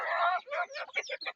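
A junglefowl hen lets out a rapid run of close, clear clucks in a broken rhythm, alone with no talking underneath.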